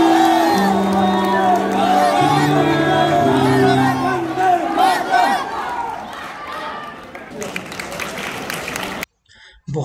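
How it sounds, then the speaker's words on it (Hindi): Crowd applause and cheering after a western dance performance at a national karate championship, a large loud roar of clapping and whoops with music underneath, fading toward the end before a brief cutoff; voices shout within the crowd. "तालियों से आपको समझ में आ गया होगा।"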